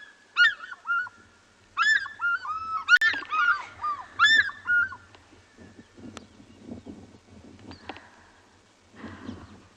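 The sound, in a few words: African fish eagle pair calling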